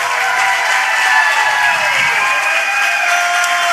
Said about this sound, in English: The crowd has gone absolutely bananas.